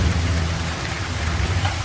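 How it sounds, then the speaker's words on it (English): Heavy rain falls in a dense, constant hiss of drops with a low rumbling undertone, steady and close throughout the short stretch. "The rain is falling harder, and you hear thunder in the distance."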